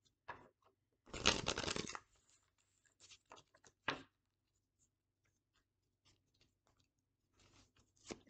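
Tarot cards shuffled for a reading: one dense riffling burst of about a second, then a sharp flick and scattered soft slides and taps, close and otherwise quiet.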